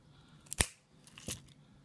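A Xikar VX keychain V cutter snips a cross cut into a cigar: two crisp close snaps, the first sharp and loud, the second softer, in near silence.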